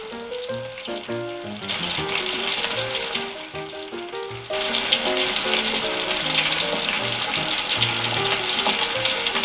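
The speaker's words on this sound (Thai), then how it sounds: "เอาไปทอดในกระทะกันเลยจ๊ะ เจ๊ก็จะทอดไปเรื่อยๆเลยนะจ๊ะ" Toy-kitchen bananas fry in a small pan, giving a steady bright sizzle that swells louder partway through and continues over tinkling background music.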